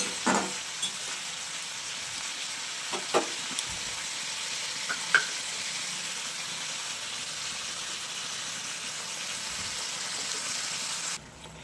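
Poppy seed paste cooking with boiled flat beans in a pan in a village kitchen gives a steady soft sizzle and bubble, with a few brief utensil taps early on, fairly close and without talk.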